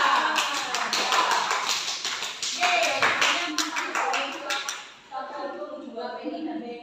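A classroom group claps during a molecular-shapes lesson, a dense patter of hand claps that fades after about five seconds as a voice continues talking.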